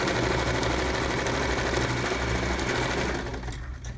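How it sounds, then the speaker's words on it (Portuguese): A sewing machine runs steadily as it stitches a seam on a fabric hygiene kit pocket meant to hold a toothbrush, giving a loud, fast mechanical hum with rhythmic needle chatter that slows and fades at the end. "passo a outra costura que eu marquei para colocar a escova de dente"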